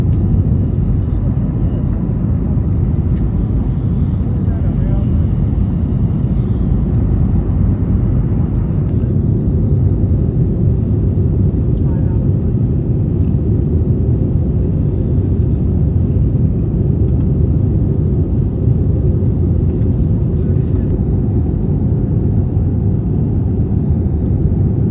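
Inside the main cabin of an American Airlines Airbus A321neo climbing out of Phoenix, a loud, steady low roar of engine and airflow noise fills the space without letup, with faint cabin rattles above it.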